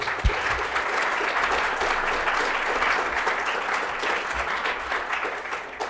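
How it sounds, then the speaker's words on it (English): Audience applause fills a conference talk hall at the Nextflow Summit in Boston, a steady dense clapping from many people held evenly for about six seconds, with no speech over it. "A round of applause for Eben."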